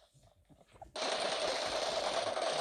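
Automatic gunfire in the PUBG video game, a dense continuous burst of rapid shots starting abruptly after a moment of quiet and holding loud to the end.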